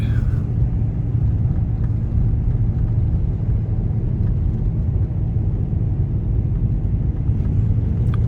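Steady, loud low-frequency rumble of a 2014 VW Passat TDI diesel on a warm-up drive, a constant engine and road drone from the cabin with no talk.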